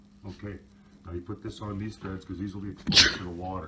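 A single sharp sneeze bursts out near the end, close and loud, right after someone speaks calmly while assembling a DIY hydroponics setup.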